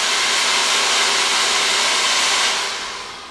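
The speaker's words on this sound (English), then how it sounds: "We're going to put the blow dryer down" Hair dryer blowing steadily and loud at close range while hair is worked with a round brush, a continuous broadband whoosh that tapers off near the end.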